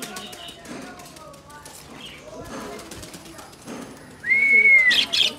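Pet pigeons being released to fly, with soft cooing, rustles and a burst of flapping wings near the end, under someone talking nearby and a sharp whistle-like call.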